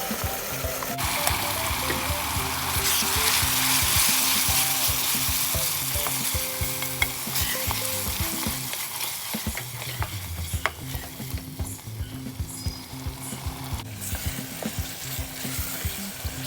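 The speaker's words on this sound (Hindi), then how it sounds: "अदरक लहसुन के कच्चेपन की महक को दूर करने तक इसे फ्राई कर लेना है।" Ginger, garlic and onion paste frying and sizzling in a hot pan, a dense steady hiss with occasional scraping and stirring, under a faint low hum.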